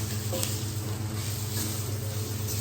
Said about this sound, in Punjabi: ਦੇਗੀ ਮਿਰਚ ਦਾ ਤੜਕਾ